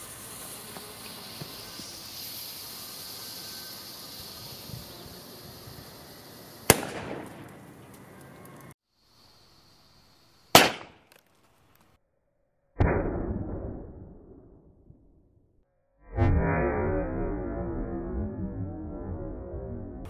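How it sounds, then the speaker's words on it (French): Several sharp pops and bangs of a firecracker exploding inside a water bottle burst out at intervals, each followed by a fizzing, crackling tail, with quiet gaps between. "le pétard a explosé sans exploser la bouteille d'eau"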